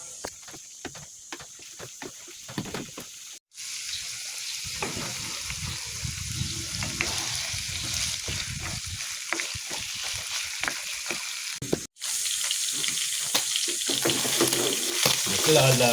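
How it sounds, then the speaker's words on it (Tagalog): Chicken liver fries in oil in a pan for adobo, giving a loud, continuous sizzle with stirring scrapes and a couple of brief breaks. "Lalagyan naman natin ng mantika para maprito siya."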